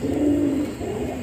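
Native pigeons coo in a loft on a foggy morning, a low soft single coo up close, with no talk.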